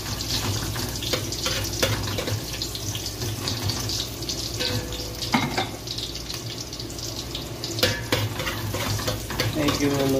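Ginger sautéing in a pan as tinolang manok gets started: a steady, close sizzle and crackle with scraping and stirring sounds running throughout, alone and fairly loud.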